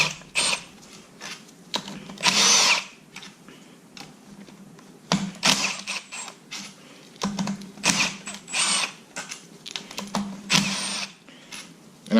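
A power tool whirs in short bursts, removing the valve body bolts from a TH350 transmission, with mechanical clicks and handling noises in between, close up.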